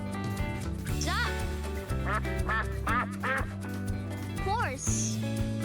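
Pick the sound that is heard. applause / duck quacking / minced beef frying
duck quacking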